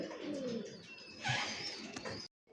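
Pigeons, Bangalore tumbler birds, coo softly inside a cage, with low throaty rolling calls close by over a faint hiss of background noise, ending abruptly.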